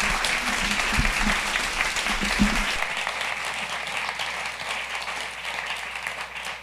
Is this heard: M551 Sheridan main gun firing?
no